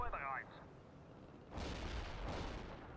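Missile launcher fire in the World in Conflict video game: two loud, broad explosive bursts about a second apart follow a brief quieter stretch with a short tonal sound at the start.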